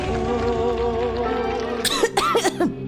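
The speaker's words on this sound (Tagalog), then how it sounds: "Ubo, plemang nakabara," Harsh, phlegmy coughing from a cough medicine radio advertisement on a Filipino station, several hacking bursts after a stretch of background music.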